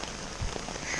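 Rain drums on a camping hammock in a faint, continuous hiss, with one slightly stronger patter of drops partway through.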